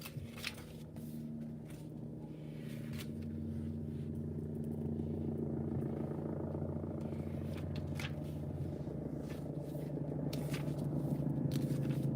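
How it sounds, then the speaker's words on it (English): A helicopter flies overhead, its low droning rotor hum steady and gradually growing louder across the clip, with faint scattered clicks and rustles nearby. "with that chopper going over above right now"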